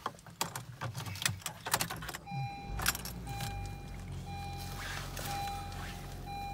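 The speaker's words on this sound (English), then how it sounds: "I'll start the car up so you can see the odometer." A 2019 Honda Civic started with the key inside the cabin: keys jangle, then the engine catches and settles into a low, steady idle while a thin dashboard tone sounds. All of it is close and fairly quiet, with no talking.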